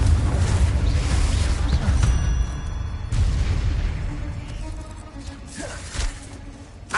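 A Confringo blasting curse in Hogwarts Legacy erupts in booming fiery explosions during spell combat, with heavy rumbling blasts that renew near the middle and sharp bursts later, beneath a shouted voice.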